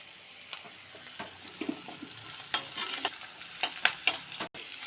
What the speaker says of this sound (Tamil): இப்போ எண்ணெய் காய்ச்சதுக்கு அப்புறமா வெங்காயத்தை ஆட் பண்ணிடலாம்.